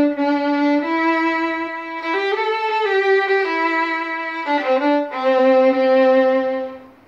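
A violin plays the melody of a song, slow and simple with sustained bowed notes, clear and close, with brief changes of pitch between phrases.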